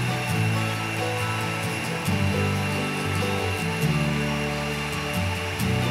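A portable bandsaw, plugged into a switched extension-cord power outlet, runs with a loud, steady motor whine that wavers slightly throughout.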